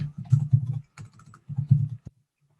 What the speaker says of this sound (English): you do have the option to actually be able to type in your name